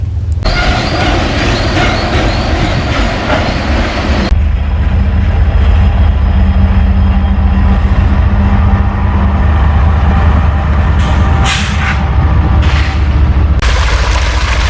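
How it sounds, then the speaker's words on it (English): A train rumbles past close by with heavy low-end roar and clattering; the noise drops away partway through, leaving a distant rumble and scattered knocks. "now that the train's gone"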